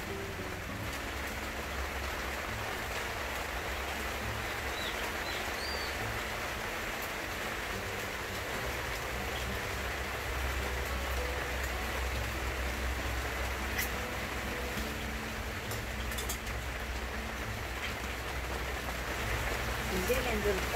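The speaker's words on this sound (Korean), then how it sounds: "비 내리는 소리는 그 어떤 음악보다도 듣기 좋은 것 같아요." Steady rain falling over a countryside home, a soft even patter and hiss that holds at the same level throughout with no other sounds standing out.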